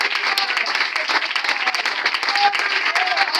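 A church congregation at a Sunday service applauds steadily, a bright, dense wash of clapping hands with no pauses, close and fairly loud.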